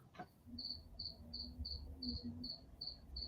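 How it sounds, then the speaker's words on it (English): Cricket chirping at sunset in Quartzsite, Arizona, a steady series of short, evenly spaced high trills over a low background hum, with a brief thump near the start. "That darn cricket drives me nuts."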